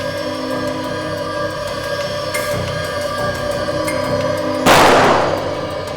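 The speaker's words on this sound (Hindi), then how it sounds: "गोलियां तो लुटेरे ने अंधाधुंध चलाई है सर।" Gunfire from a robber's gun in replayed CCTV footage: one sharp, loud bang cracks out near the end over a steady electrical hum, with a fainter click earlier on.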